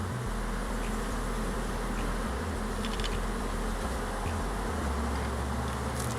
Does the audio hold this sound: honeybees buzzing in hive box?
yes